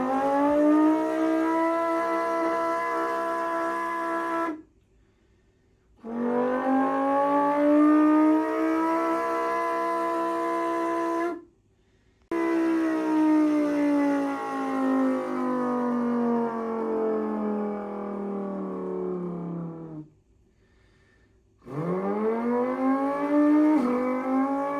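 A human voice imitates an F1 V6 race car engine, recorded in a studio through a paper towel roll: loud sustained revving sweeps rising and falling in pitch, broken by three short silent gaps, with no other talk.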